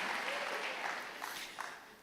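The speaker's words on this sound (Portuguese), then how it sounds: "Vamos dar uma salva de palmas ao Senhor por essa palavra tão linda" A church congregation claps after a sermon: a dense, steady patter of many hands at fairly low level, easing slightly toward the end.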